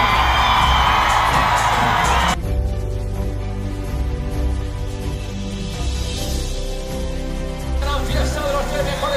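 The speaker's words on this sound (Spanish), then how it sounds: "¡Otro fuerte aplauso, Madrid!" A large crowd cheers, whoops and applauds at the 2018 Vuelta a España cycling podium celebration in Madrid, a loud sustained roar with music and an announcer's voice over it.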